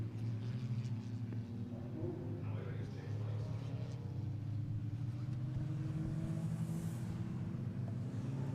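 Race cars circle a circuit at low pace on Nankang tyres to warm them, their engines a low, steady rumble heard from a distance beneath a commentator's voice.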